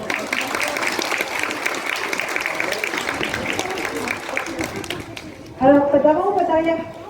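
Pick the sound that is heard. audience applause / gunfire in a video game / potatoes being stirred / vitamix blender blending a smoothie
audience applause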